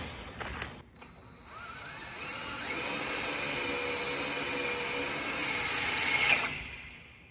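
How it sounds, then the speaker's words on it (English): A power drill boring a hole into a metal fitting in a workshop, starting with a short burst, then a steady high whine as the bit cuts, close and loud, ending abruptly near the end. "Straight one's gonna go on here once we drill this and tap it."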